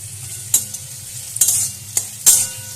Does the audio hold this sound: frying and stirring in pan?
yes